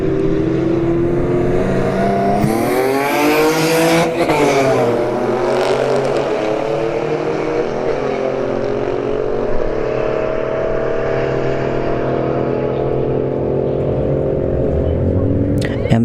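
An Audi and a Honda Accord drag race down a strip, engines roaring loud and close with rising, gear-stepping revs for the whole run.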